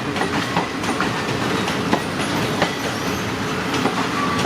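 Steady rumble and rhythmic wheel clatter as GEK 4050 diesel locomotive eases Bangkok–Prachinburi suburban train 371 into a platform, continuous and fairly loud with faint squeals, no voices.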